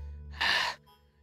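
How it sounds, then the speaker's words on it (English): A character in The House in Fata Morgana lets out a single short, breathy gasp, close and fairly soft, lasting under half a second against a quiet background hum. "Gasping for breath, my consciousness slipping away from me"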